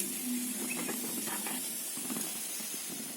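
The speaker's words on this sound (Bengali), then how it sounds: "মাছের ঝোলের ফুলকপিটাকে একটুখানি ভাপিয়ে নিচ্ছি, একটু গরম জল করে একটু সেদ্ধ করে ফেলে দেবো" Cauliflower for a fish curry parboils in hot water, a close steady steamy hiss with faint bubbling and light clinks throughout.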